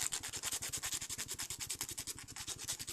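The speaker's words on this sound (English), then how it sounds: "then you just sand it down" A cut Lego piece sanded by hand, quick rhythmic back-and-forth scraping strokes repeating evenly and close up, about a dozen per second, with no voices.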